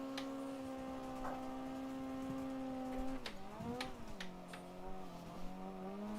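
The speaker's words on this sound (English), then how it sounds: "I love when I really tap the accelerator pedal in this car. It sounds like it's dying." A race car engine in the Assetto Corsa driving game holds a steady drone, then dips and wavers as the throttle is blipped, with sharp clicks scattered across the second half.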